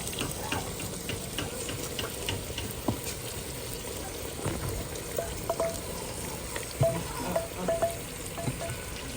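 Onions and tomatoes frying in a pan over a village kitchen fire, a steady soft sizzle with occasional clinks and stirring scrapes, fairly close and continuous throughout.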